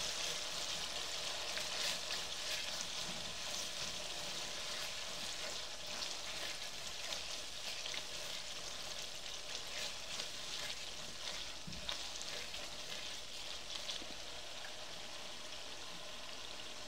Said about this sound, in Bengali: ঢাকনাটা তুলে আমি একটু নেড়ে দিচ্ছি।